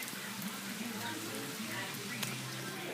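Rain falls outdoors as a steady, diffuse hiss of light drops that stays even throughout, fairly faint and without distinct individual splashes.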